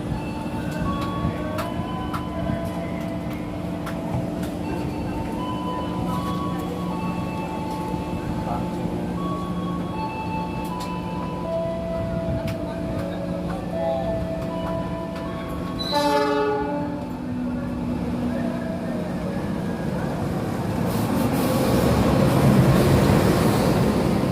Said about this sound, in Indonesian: sepertinya akan ada kereta api yang masuk di jalur 3 stasiun Kutoarjo